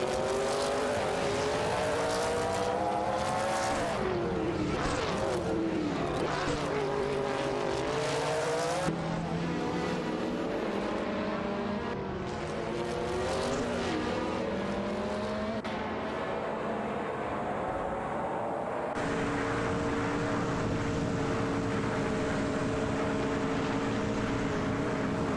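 Simulated race cars, including a Ferrari and a Ford Mustang Cobra, roar through a racing video game, their loud engine notes rising and falling with gear shifts over a steady bed of multiple cars for the whole stretch.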